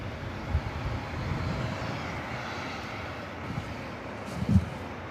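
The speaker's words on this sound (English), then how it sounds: "Our next arrival is Virgin Atlantic Flight 141, A350 1000, coming in from London Heathrow." A Virgin Atlantic Airbus A350-1000 arrives at LAX, heard as a low, fairly distant jet rumble under wind, with a couple of brief thumps. No one speaks.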